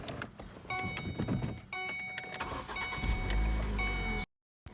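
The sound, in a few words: car engine starting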